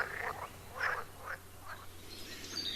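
Frogs croak in a quick series of short, bright pulses, about six calls at an uneven rhythm, moderately close over a quiet low hum.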